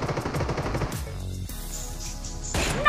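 Rapid bursts of automatic gunfire in a shooter video game, loud and close, with a short pause before another rattling volley and a sharp shot at the end.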